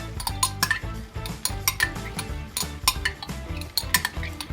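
Hot sauce is stirred into melted butter for buffalo wings, a utensil clinking and scraping rhythmically against the pan in quick, repeated strokes, close and continuous.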